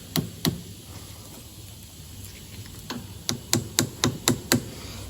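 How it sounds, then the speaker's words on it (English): Light hammer taps fitting an ABS reluctor ring on a Renault Clio, sharp close metallic knocks, a pair early then a quickening run of about seven, over faint background hum. "just give it a light tap with a hammer"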